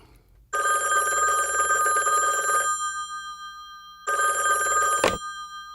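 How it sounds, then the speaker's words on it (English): A telephone bell rings in two long bursts separated by a pause of silence, loud and close, with a brief knock at the end of the second ring. "The next day, around noon, my phone rang."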